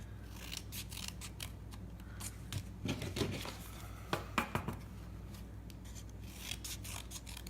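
Scissors cutting slits into paper to make jumbo paper wall daisies, a series of close, crisp snips and paper rustles, bunched in quick clusters with brief pauses, over a faint steady hum and no speech.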